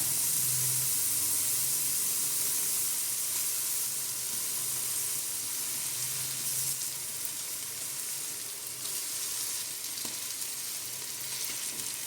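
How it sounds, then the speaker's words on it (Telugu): Small bommidayilu fish sizzle and crackle steadily in hot oil in a pan, a dense, close hiss that continues unbroken, with no voices. "బొమ్మడాయలన్నీ వేసేసుకున్నాను. ఇవి కొంచెం ఆయిల్లో మగ్గనిద్దాం."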